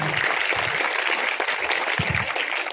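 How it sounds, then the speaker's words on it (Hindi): Villagers at an Ambedkar Jayanti community program clap together in welcome of a guest, a steady crowd applause with faint voices mixed in underneath. "आइए तालियों के साथ आपका स्वागत करें आप लोग"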